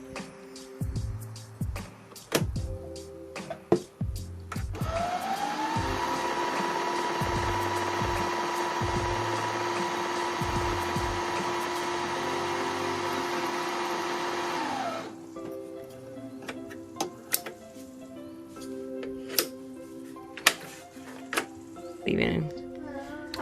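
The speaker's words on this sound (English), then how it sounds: "I'm back stitching to make sure that I reinforce that seam" A home sewing machine back stitches a seam on the front left pocket of a little girl's fall poncho, a steady motor whir running about ten seconds, framed by clicks and handling noises before and after.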